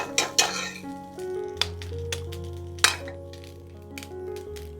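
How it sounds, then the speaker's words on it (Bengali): An egg cracked against a bowl and dropped into cooked rice, with sharp clinks of shell and dish over a steady tonal hum, a few distinct taps spread through the moment. "এবার দেখো এর মধ্যে এবার ডিমটাকে ফাটিয়ে দিয়ে দেবো"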